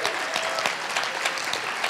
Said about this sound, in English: this deserves applause